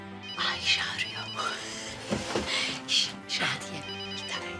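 A telephone rings in a Turkish drama scene, its repeated electronic ringtone bursts sounding at moderate loudness while people talk over it.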